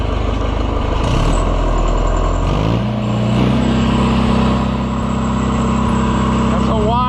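Oliver 1450 tractor engine running steadily up close, a loud low rumble that settles into a rough idle after a brief labored stretch, with a person talking over it.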